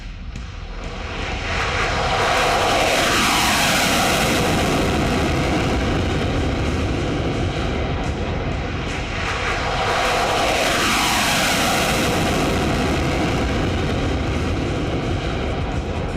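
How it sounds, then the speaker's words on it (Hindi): An F-16 fighter jet takes off at an air base in Hualien, Taiwan, its engine roar swelling into a loud, sustained rumbling blast that holds steady and close for many seconds, with no talking over it. "आप देखिए F-16 जो फाइटर जेट है वो टेक ऑफ करते हुए भी आपने देखा"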